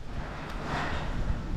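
Strong wind outdoors near the sea buffets the microphone with a low, rumbling roar and a broad hiss, steady and close throughout a brief moment with no talking.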